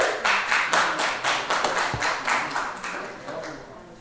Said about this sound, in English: Please give Davina Hurt and Tamika Washington a round of applause.